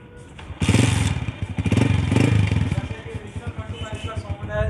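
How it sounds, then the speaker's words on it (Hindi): Road Prince 125 motorcycle engine running in a used-bike setting, a steady near putter that swells as the throttle is blipped a few times, with voices talking over it. "रोड प्रिंस का 125 नज़र आया, तो क्यों ना हम इसका साउंड टेस्ट कर लें ज़रा।"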